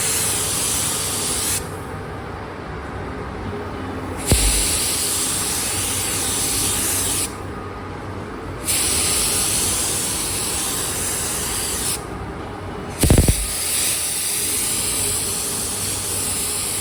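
Spray gun laying clear coat on Suzuki GSX-R750 parts, loud hissing bursts in three long passes separated by brief pauses, with a sharp clunk near the end.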